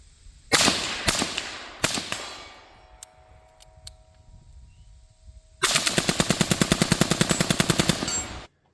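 Suppressed 5.56 rifle gunshots fire through a Four Systems Recce suppressor on a 10.3-inch upper: a few single sharp cracks with metallic pings, then a long rapid string of close, loud shots.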